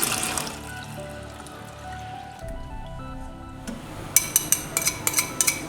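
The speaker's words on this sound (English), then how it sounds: "Now I'm adding back the rest of the milk." Milk is poured into a vanilla pudding mixture in a pot over the flame, giving a soft liquid trickle, followed by a run of quick wet squishy taps near the end, close and alone.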